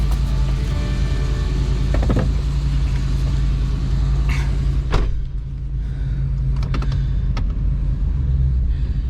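A vehicle rolls slowly out into an open area for photos, giving a steady low engine rumble with a few brief clunks and clicks partway through.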